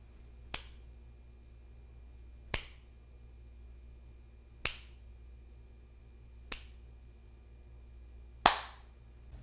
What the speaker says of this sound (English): it is advisable to record either a clap or a snap